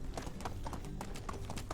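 In the game Medieval Dynasty, a horse pulling a cart clip-clops in a steady, even rhythm of hoofbeats, close and moderately loud, with nobody talking.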